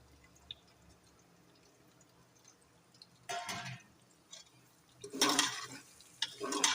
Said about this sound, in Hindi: प्याज को हम इसमें थोड़ा सा फ्राई करेंगे, बस हल्का सा इसमें लाइट कलर आएगा